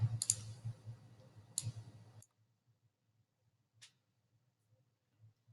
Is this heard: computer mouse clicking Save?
yes